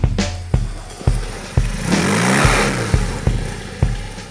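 A dirt bike on a dirt track pivots through a sliding 180-degree U-turn, its rear tire spinning. Sharp engine bursts repeat at a steady rhythm, with a sweeping rev and a gritty rush of spinning tire in the middle, loud and close, with no talk.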